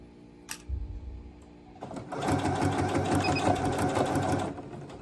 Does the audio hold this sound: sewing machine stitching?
yes